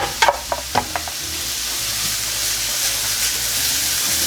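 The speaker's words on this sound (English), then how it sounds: "So once I can smell the garlic, I'm going to go in with these carrots" Carrots tumble into a pan of hot garlic with a few quick clattering drops, then a steady, close frying sizzle takes over and holds evenly to the end.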